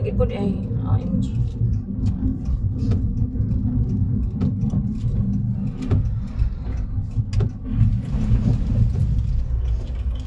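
Rain drums on a moving car during a drive, a steady wash over the low engine and road rumble with scattered sharp drop hits, while a voice talks over it.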